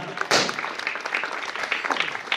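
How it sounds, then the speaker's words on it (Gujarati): An audience at an honouring ceremony breaks into strong applause, a sudden burst of dense clapping that carries on steadily and loud. "આપણે જોરદાર તાળીઓથી વધાવી લેશું"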